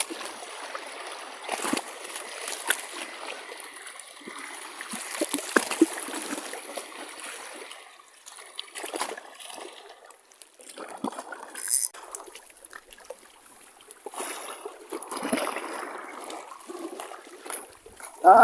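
Feet wading and splashing through shallow salty sea water on a rocky shore during shore casting near Legazpi, Albay, giving a steady broken run of sloshes and trickles at close range with no speech.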